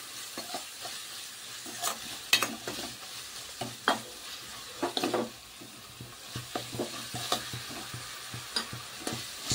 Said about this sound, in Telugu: పేస్ట్ తాలింపులో వేసుకొని వేపుకోవాలి.